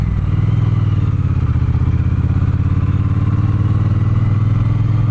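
A Triumph Bonneville T120 motorcycle leaning deep into a right-hand curve on a hot-weather ride, its engine giving a loud, steady, close rumble with wind noise and no break throughout.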